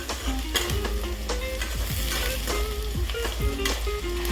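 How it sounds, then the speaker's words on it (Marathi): Onions sauté in a pan toward browning, a close continuous sizzle with repeated stirring scrapes and spatula clinks over a low steady burner hum. "हे बघा, असं कांदा आपण परतून घेऊया। नॉर्मल ब्राऊन करून घ्यायचे त्यांना।"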